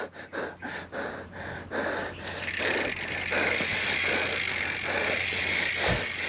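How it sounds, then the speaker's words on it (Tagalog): Heavy, rapid panting breaths after exertion while carrying a Mama Mary statue in a procession in San Agustin, Bauan, Batangas, a run of quick rhythmic gasps up close that gives way to a dense, noisy crowd wash. "Hingal agad."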